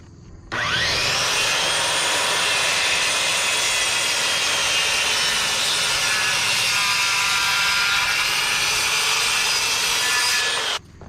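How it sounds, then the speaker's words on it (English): A circular saw cuts through a fir rafter in a bedroom ceiling, its blade biting in with a rising whine, then a loud, steady buzzing rasp for about ten seconds before it cuts off abruptly. "So I'm going to take my saw and cut until it gets even there."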